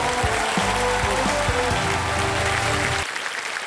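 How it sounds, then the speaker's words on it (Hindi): A game show studio audience applauds loudly and steadily, with a musical sting playing over the clapping before it cuts off abruptly near the end. "जोरदार तालियां इनके लिए अगेन।"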